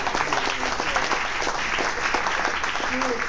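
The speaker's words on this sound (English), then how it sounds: "We should give Stuart another round of applause." Audience applause at a leaders forum event, a dense steady patter of many hands clapping, sustained and fairly loud for a few seconds.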